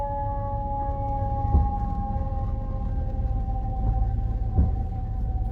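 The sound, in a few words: ambulance siren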